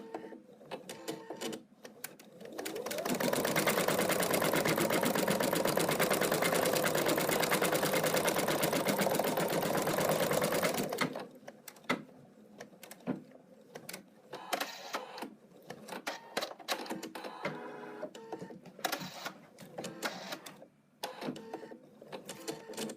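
Embroidery machine stitching a placement line for the feet of a cat paw-print design: a loud, rapid mechanical buzz running steadily for about eight seconds, then stopping into quiet clicks and intermittent machine noises.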